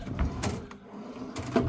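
Hotel room drawers at the Palazzo in Las Vegas slide open and shut, giving two soft, close wooden clunks about a second apart in a quiet room.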